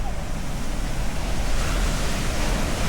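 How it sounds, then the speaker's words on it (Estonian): Sea wave washing up onto an Australian beach strewn with seashells, a steady broadband roar of surf with wind buffeting the microphone, no voices. "kohe tuleb järgmine laine"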